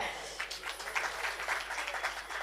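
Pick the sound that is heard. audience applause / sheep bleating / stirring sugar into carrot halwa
audience applause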